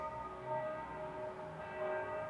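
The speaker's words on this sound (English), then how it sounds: "Church bells ringing," Church bells ring at a distance in Salzburg, their sustained tones overlapping in a soft, steady peal.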